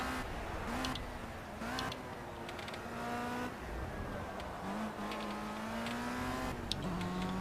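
A race car engine in the video game Project CARS drones steadily at moderate volume, its pitch shifting with gear changes through corners, with faint mechanical creaks and no talking.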